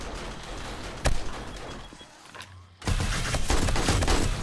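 Defensive turrets open fire on an approaching zombie horde in 7 Days to Die, a dense, continuous crackle of rapid gunfire with a brief lull before a loud renewed burst, no talking.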